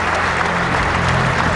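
An audience at an Indian political gathering for NDA leaders applauds, a short burst of steady, dense clapping heard close and fairly loud.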